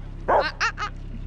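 A dog gives a few quick, yappy barks close by, three short bursts in a row against a faint background hum.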